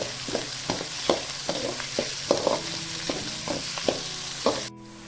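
Onions sauté in a pan over a steady sizzle, with a spatula scraping and tossing in a quick, regular rhythm. The sound cuts off abruptly near the end.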